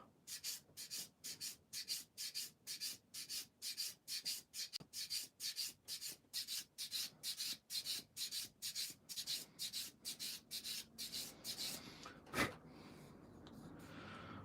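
Filler sanded down by hand on an Academy F4F-4 Wildcat plastic model aircraft, with about thirty quick, rhythmic rubbing strokes, close and fairly quiet, ending in a pause and a single soft bump.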